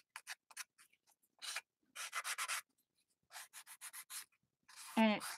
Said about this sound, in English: And it sands down pretty good